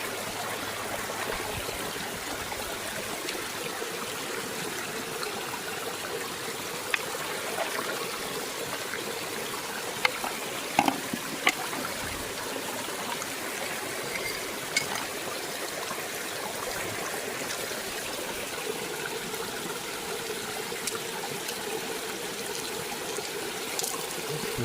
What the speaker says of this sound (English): Start moving this stuff around, the water starts shifting.